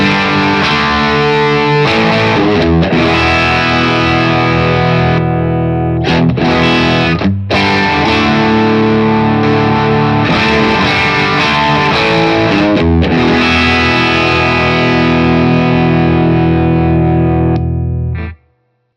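Electric guitar played through two stacked overdrive pedals with their order swapped, a loud, sustained distorted tone ringing with chords throughout and cutting off abruptly at the end.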